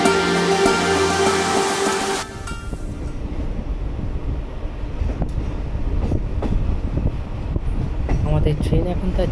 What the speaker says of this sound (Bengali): আমাদের ট্রেন এখন তার যাত্রাপথের তৃতীয় স্টেশন বোলপুর শান্তিনিকেতনে প্রবেশ করছে